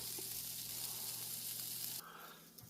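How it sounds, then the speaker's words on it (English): Food sizzling as it fries golden brown on a hot grill, a steady close hiss that drops sharply in level near the end as the pieces are turned or moved. "I'm just going to fry these off until they get nice and golden brown"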